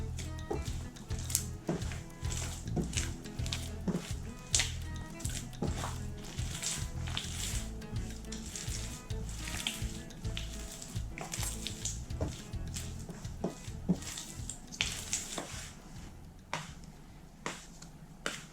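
Sticky dough for vanilla buns being mixed by hand in a bowl, giving a steady run of wet squelching slaps and clicks up close, with light clatter from the bowl and no talk.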